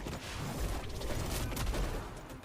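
Elsa Bloodstone's two-shot shotgun firing in Marvel Rivals, a dense run of loud blasts and booms layered over game noise, dense and busy across the whole moment.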